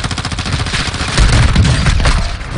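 Rapid bursts of automatic gunfire crackle steadily in a Call of Duty Warzone match, growing louder and denser midway with heavy low-end thumps, with no talking over it.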